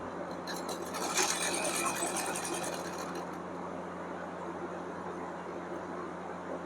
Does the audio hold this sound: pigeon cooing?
no